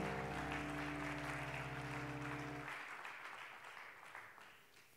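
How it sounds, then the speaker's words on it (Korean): A church congregation at a Korean pastors' conference breaks into applause over a sustained keyboard chord; the music cuts off midway and the clapping continues alone, gradually thinning and fading. "우리 주님께 큰 감사와 영광 박수 올려드리겠습니다"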